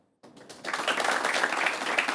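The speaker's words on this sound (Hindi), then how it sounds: "ताली बजा सकते हैं" An audience at a televised Vishwakarma scheme event in India breaks into applause, a dense burst of clapping that swells quickly and holds steady.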